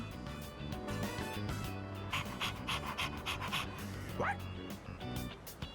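A dog pants rapidly and rhythmically in Persona 3 Reload, close and clear over soft game background music, with a brief whimper near the end.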